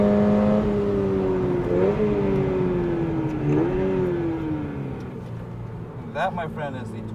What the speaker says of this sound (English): Oh, just listen to that exhaust tone.